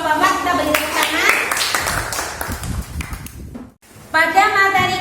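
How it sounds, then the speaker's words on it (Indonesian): Classroom children clap for a student group in a short burst of applause that fades into a brief silence, followed by a teacher speaking. "Terima kasih untuk kelompok 4, kita beri tepuk tangan."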